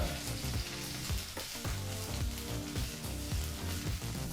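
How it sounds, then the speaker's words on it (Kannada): Curry leaves fry on a low flame as they are stirred without pause, a dense sizzling crackle under rhythmic scraping and clinking of a ladle against the pan. "ಎಡೆಬಿಡದೆ ಈ ರೀತಿ ಮಿಕ್ಸ್ ಮಾಡ್ತಾನೆ ಫ್ರೈ ಮಾಡಿರೋದು"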